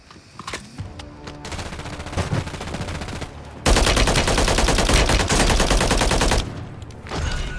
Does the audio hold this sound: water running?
no